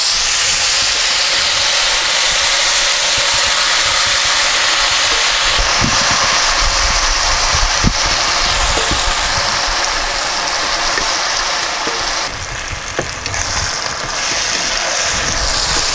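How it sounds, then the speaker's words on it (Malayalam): Beef pieces frying in hot oil in a pan over a medium flame, giving a steady, loud hiss and sizzle that runs unbroken throughout, with a few faint clinks and stirring knocks and no voices. "ഇനി നമുക്ക് കുറേശ്ശെ അതിലെ എണ്ണയിലേക്ക് നമുക്ക് ആ ബീഫ് ഇട്ട് കൊടുത്ത് നന്നായിട്ട് ഫ്രൈ ചെയ്തെടുക്കാം"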